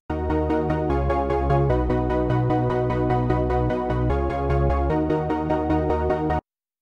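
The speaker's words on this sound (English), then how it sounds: "With the bassline done, the chord shouldn't be a problem and it'll sound like this." A hardstyle bassline with layered chords, dense and loud, pulsing in a steady driving rhythm before cutting off abruptly at the end.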